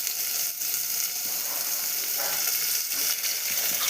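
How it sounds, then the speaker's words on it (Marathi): Onions frying in oil with mustard seeds and cumin for veg pulao, a continuous close sizzle crackling evenly without talk. "कांद्याला छान असं परतून घ्यायचं, कमी पॉवर करायचा, लो फ्लेमवर."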